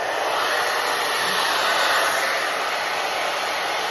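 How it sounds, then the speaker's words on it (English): Hair blow dryer running continuously on medium heat close up, drying and styling a man's beard with a vent brush; a steady loud broadband whoosh with no talking. "I'm going to grab my vent brush and my blow dryer because we're gonna blow dry this beard"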